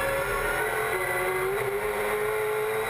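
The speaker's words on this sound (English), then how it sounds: "What a wheel spin." A race car at Sydney Motorsport Park spins its wheels and slides out of corners, its engine a steady high, strained drone with a rising pitch sweep, fairly close and continuous.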